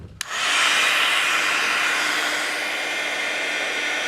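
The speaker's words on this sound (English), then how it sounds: "I'll do my heat embossing." A heat embossing tool switches on with a click and blows hot air in a steady, loud, close whoosh that holds constant after a brief spin-up.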